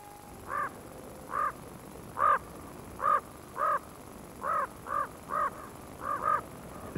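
Crows caw in a Yellowstone winter, Wyoming: about a dozen harsh, clear calls spaced at a steady, unhurried rhythm, fairly close and alone against quiet background air.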